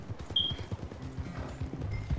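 Horse hooves in Red Dead Redemption 2 clip-clop in a quick, even rhythm, fairly close and clear, with a faint high tone briefly above.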